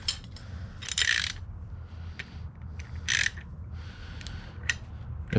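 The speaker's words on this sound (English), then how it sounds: "now I can loosen this with my breaker bar" A breaker bar works a bolt loose on the car suspension of an MK3 Supra during a Tein coilover install, giving sharp metallic clicks and scraping bursts in a few separate pulls, close up with no talk.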